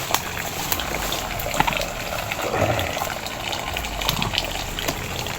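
Steady, continuous rush of water gushing from a spring, close and fairly loud, with no pauses throughout.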